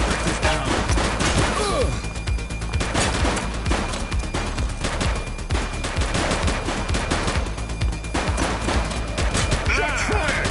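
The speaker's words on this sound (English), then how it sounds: "Shots fired!" Gunfire in The Precinct police video game on PS5: dense rapid bursts of shots crackling almost continuously for ten seconds, loud and close, with brief lulls between volleys.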